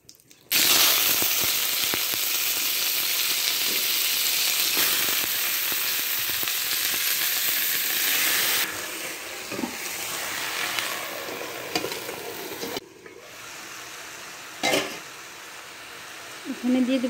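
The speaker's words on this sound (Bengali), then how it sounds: "পোড়নি দিয়ে দিচ্ছি জিরে" Cumin seeds sizzle and crackle in hot oil for tempering a mixed vegetable chorchori of potato, brinjal, beans and gourd shoots, a loud steady frying hiss with stirring scrapes that thins out partway through.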